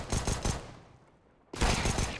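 Rapid bursts of gunfire in a CS:GO esports match on the Train map, a loud volley, a brief lull, then another sharp burst.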